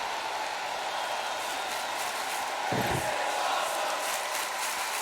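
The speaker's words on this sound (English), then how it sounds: "you hear the crowd saying this is awesome" Arena crowd in the WWE 2K20 wrestling video game chanting during a match, a constant roaring wash of voices with a heavy thud partway through, steady and moderately loud.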